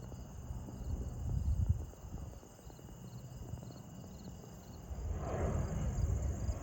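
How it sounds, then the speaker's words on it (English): Steady, faint insect chirping hums beneath a low, gusty rumble of wind, with the rumble swelling again near the end. "Just love the sound of the crickets"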